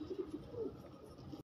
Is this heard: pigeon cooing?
yes